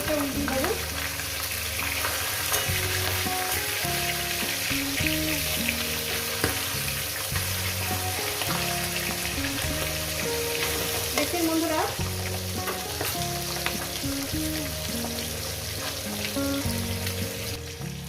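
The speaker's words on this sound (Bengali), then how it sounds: "মাছের মাথাগুলো প্রথমে ভেজে নেব" Oil sizzles and crackles steadily as fish heads fry in a pan, with occasional clinks of a utensil stirring, no talking.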